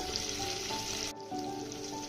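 Tempering spices with a pinch of turmeric frying in hot oil for rasam, a close, steady sizzle with a short dip in the middle, no voices.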